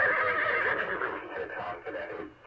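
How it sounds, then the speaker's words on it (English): A distressed horse whinnies near a mountain brush fire in Moor Park, California, a moderately loud, wavering neigh with people talking in the background. "Oh, poor horsey. Get the horsey out of there."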